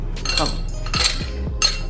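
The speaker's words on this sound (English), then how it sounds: "get your glass, put some ice in it" Ice cubes clink and clatter into a glass in a home kitchen, several sharp bright knocks spaced unevenly over about two seconds, close and clear, with no talking over them.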